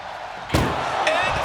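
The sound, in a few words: ambulance door being slammed shut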